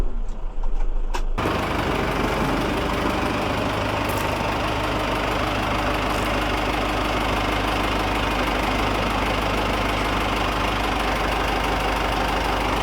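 A Valtra 900 90-horsepower tractor diesel engine idles close and loud, a steady low rumble with a knocking rhythm that continues unchanged after a brief quieter start.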